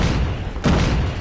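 A grenade goes off in a Call of Duty match, one loud burst of blast noise landing about midway through over steady game din.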